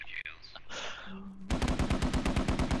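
Heavy .50 calibre machine gun fire in the military shooter Squad starts abruptly after quieter sounds and pounds out a fast, regular stream of loud, close shots that keeps going to the end.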